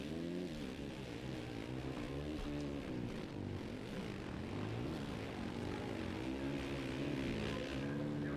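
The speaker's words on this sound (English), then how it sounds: "I hear the engine behind me." Engine drone of an opponent's dirt bike in the motocross racing game MX vs ATV, a steady buzzing, revving hum that holds at an even, fairly loud level throughout with no speech.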